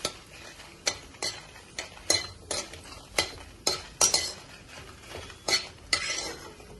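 Bitter gourd fried in a little oil and stirred, regular metallic scrapes of a spoon against the pan over a light sizzle, close and rhythmic.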